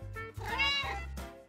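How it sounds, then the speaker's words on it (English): Inside a house, a cat gives a single drawn-out meow, close by but fairly quiet. "I think a cat just got inside the house."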